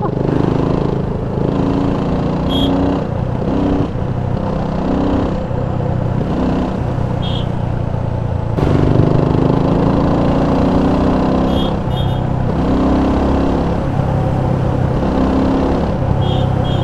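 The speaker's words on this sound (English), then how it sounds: "And just wanted to warm up the engine." A BSA Gold Star 650 motorcycle's single-cylinder engine idles while warming up on the Yamuna Expressway, a steady, close, loud low thump with slight variations in pace and no talk.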